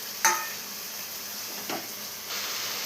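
Tomato frying in a kadai with onions and ginger garlic paste, a steady oily sizzle broken by a sharp spatter at the start and scraping stir strokes later, close, no talking.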